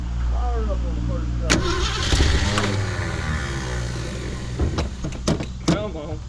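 A 1969 Ford Ranchero, sitting for 40 years, cranks and catches, its engine sputtering and rumbling close by with uneven bursts, while someone talks over it.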